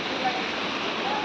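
The Rongbang river in Meghalaya rushes near its waterfalls, making a steady, loud broadband roar of flowing water that continues without a break.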